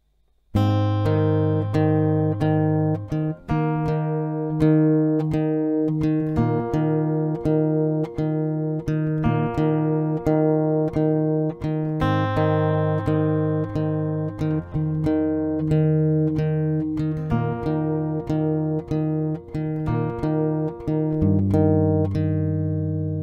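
Acoustic guitar plays a song at a slowed-down pace, steady picked and strummed chords ringing continuously for over twenty seconds, close and clear with no talking.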